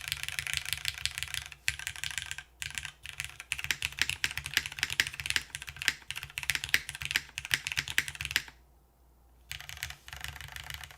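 Keys on a custom-built Eclipse mechanical keyboard clack in quick, close bursts of typing with short pauses and one longer break before the keystrokes resume, crisp and fairly quiet, with no voices.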